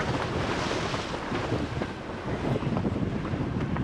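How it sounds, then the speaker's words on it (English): Strong cold northeast wind roars steadily over a triple-reefed sailboat in the Bahamas, a dense, loud buffeting rush across the microphone with no speech. "We are getting a ton of wind coming out of this cut over here"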